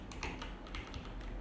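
Keys tapped on a computer keyboard while entering an expression in After Effects, a quiet run of soft clicks under a low steady background hum.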